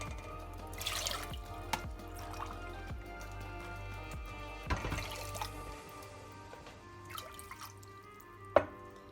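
Water is poured onto sugar in a pan for baklava syrup, giving several short splashing pours with scattered drips and trickles in between over a low background hum.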